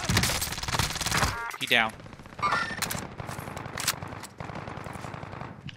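Rapid automatic gunfire from the Call of Duty: Warzone video game on Rebirth Island rattles in loud, dense bursts, with a short whooshing sweep partway through, while a player briefly speaks over it.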